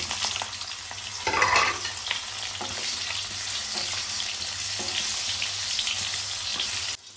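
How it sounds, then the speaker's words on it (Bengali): Continuous crackling sizzle of eggplant pieces frying in hot oil in an uncovered pan, loud and close, with a brief louder burst early on as the eggplant hits the pan. "তেল গরম হয়ে গেছে, এবার বেগুনগুলো ভেজে নেব।"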